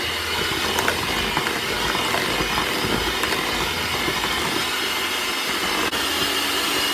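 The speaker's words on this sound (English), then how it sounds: "we're going to cream these together on medium speed until they're fluffy" An electric mixer creams butter and cream cheese together at medium speed. It makes a steady, close whirring hum with faint rattles, continuous for the whole stretch and without any voices.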